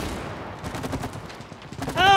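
Rapid shooting in the video game It Takes Two, a quick stuttering run of soft popping shots in the middle, with a voice cutting in at the end.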